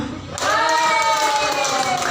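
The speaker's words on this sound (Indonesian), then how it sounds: "Tepuk tangan dulu dong." Crowd at a community wellness therapy gathering clapping together, a sudden burst of dense applause mixed with cheering voices and musical tones, sustained and close.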